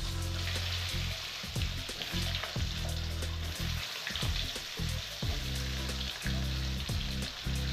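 Potatoes fry in oil for a winter rohu fish curry, a loud, dense sizzle filling the whole stretch, with repeated low rumbling bursts and clattering spatter from stirring.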